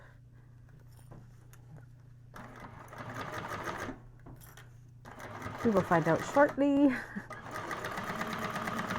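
A sewing machine stitching a zipper on a convertible bag, running in a steady whir that speeds up into bursts of rapid mechanical clatter midway, with a person speaking briefly over it.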